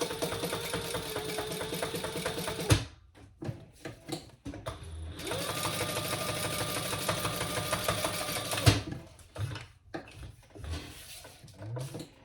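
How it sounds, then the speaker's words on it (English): A sewing machine top stitches a bag opening closed on a crossbody bag, running in two long steady bursts with a pause and brief stops, close and clear with no talking. "let's top stitch that opening closed"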